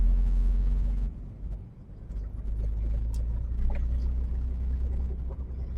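An HGV truck reverses onto loading bays in a depot yard, its engine giving a low, steady rumble close by, briefly easing before settling into a constant drone.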